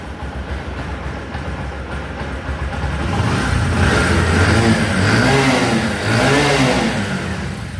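A car engine revs up loudly and close, building to a sustained roar with rising and falling pitch over a steady low rumble, no talk.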